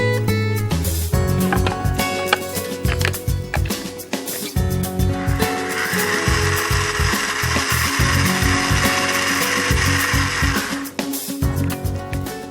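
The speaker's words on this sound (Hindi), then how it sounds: "इसे अब हम मिक्सी में पीसेंगे" A mixer grinder whirs loudly as it grinds cooked spices, a steady motor roar with rattling, grinding bursts throughout and no pauses.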